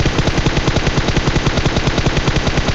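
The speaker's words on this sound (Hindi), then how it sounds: "इसको तो मैं 2 बुलेट में नॉक कर देता हूँ" Rapid automatic gunfire in a battle royale video game, loud and close, firing in a fast, even stream of shots that lasts the whole stretch.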